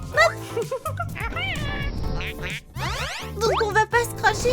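Cartoon duck quacks a few times amid a lively animated scene of cheerleading pop-star characters, with excited voices, boings and jingly effects overlapping the calls.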